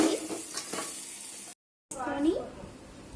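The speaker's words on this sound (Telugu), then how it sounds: "మనం ఎక్కువగా కలిపెట్టుకుంటూ ఉండాలి, ఎందుకంటే ఇది అడుగులా మాడిపోతుంది." Mango pulihora being stirred in a pan, a steady scraping and soft sizzle with a few knocks of the spoon, broken by a brief silent gap before the stirring resumes, close and moderately quiet.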